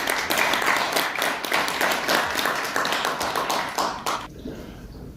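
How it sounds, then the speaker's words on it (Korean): An audience claps steadily at a formal Korean political event, greeting a speaker: dense, close applause with many overlapping hands, holding for about four seconds before tapering off abruptly into near quiet. "큰 박수로 맞아주시기 바랍니다"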